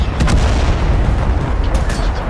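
Battle in a war video game with gunfire and artillery, a dense, continuous roar of booms and shots with sharp cracks layered over a rumbling low end, loud and unbroken throughout.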